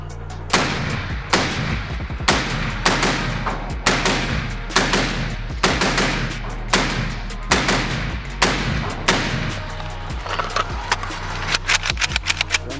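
Unsuppressed shots from a Foxtrot Mike FM-15 Gen 2 rifle with an 11.25-inch upper, a steady string of loud, sharp, evenly spaced reports, close and with no talk over them.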